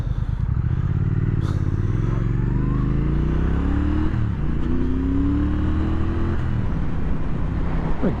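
A 2017 Triumph Thruxton R motorcycle in sport mode pulls hard through the gears, its engine note rising in repeated climbing sweeps with brief dips at each shift, loud and close throughout with wind rush behind it.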